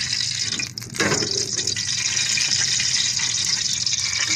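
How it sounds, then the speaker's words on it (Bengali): Cooking oil is poured into a frying pan ready for fish: a steady, close, gushing liquid stream runs throughout against a constant background hiss. "আর ভালো তেল দিয়ে দিলাম।"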